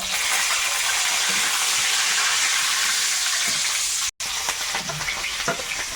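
Whole garam masala and bay leaves fry in hot oil in a kadai, giving a loud, dense, continuous sizzle with soft stirring knocks and one brief cut to silence partway.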